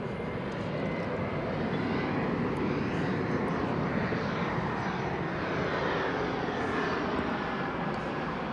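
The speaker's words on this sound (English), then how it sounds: "This is American Eagle flight 3534 and Embraer 175 LR on runway DFW." An American Eagle Embraer 175 LR regional jet on the runway at Dallas/Fort Worth airport gives off a steady, loud, broadband engine roar that holds at an even level for the whole stretch, with no voices.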